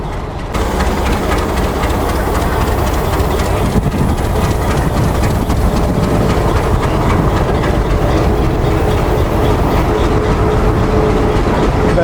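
HBU 28039 diesel locomotive of the Millat Express rumbles loud and close with a deep, steady engine drone and heavy mechanical throb, holding constant throughout.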